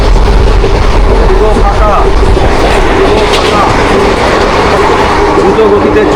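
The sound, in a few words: passenger train running fast at night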